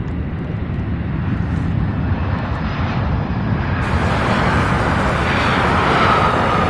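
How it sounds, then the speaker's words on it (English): A UPS Boeing 747 cargo jet on short final approach, its engines a steady, loud, broadband roar that holds unbroken throughout. "I do see the 747 Queen of the Skies out of Dallas Fort Worth, UPS 2751 now on short final"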